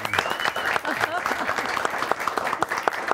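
A studio audience breaks into brisk applause on a talk show, the crowd clapping steadily in a dense, even patter for a few seconds while a voice carries on over it.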